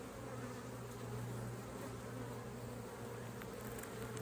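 Honey bees buzz around an open hive during a frame inspection. The drone is continuous and steady, with a low hum underneath, and no voices are heard.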